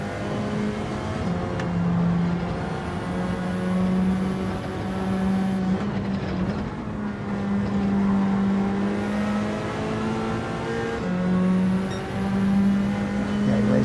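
Racing cars roar around a track in Gran Turismo played on PSVR2, one engine droning loud and close with steady pitch shifts through gear changes, as other cars whine nearby.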